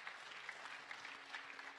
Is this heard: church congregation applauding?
yes